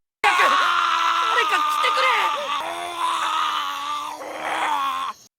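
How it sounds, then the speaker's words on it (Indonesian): A dragon's cry rings out as a loud, drawn-out monstrous roar with wavering, groaning pitch, sustained for about five seconds before cutting off abruptly. "sebagai naga, yang terdengar hanyalah auman monster"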